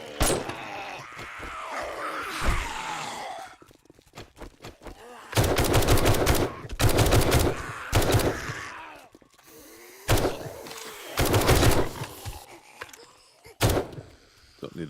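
Gunfire from the video game 7 Days to Die rings out in heavy bursts, rapid automatic volleys and single loud shots separated by quieter gaps, with faint groans in between.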